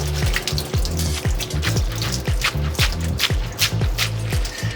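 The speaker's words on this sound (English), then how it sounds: "Okay, so we'll drain this." Cold rinsed noodles draining at a kitchen sink, heard as a steady loud rush of running water with rhythmic sloshing pulses, close up and without talk.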